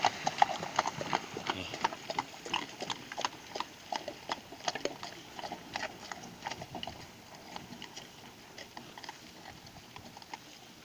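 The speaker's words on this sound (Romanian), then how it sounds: "Frumos cal aveți." Horse hooves clip-clopping beside the Drăgănești reservoir, a steady run of sharp hoof knocks at moderate distance, with faint voices in the background.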